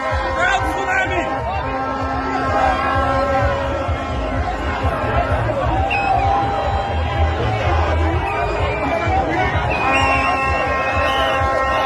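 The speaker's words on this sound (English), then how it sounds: "This is a crowd tsunami!" A large crowd packs a street in Abuja, a dense, loud roar of chatter, shouting and whoops that holds steady throughout with no pause.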